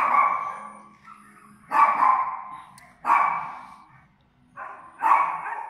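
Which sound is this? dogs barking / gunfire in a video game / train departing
dogs barking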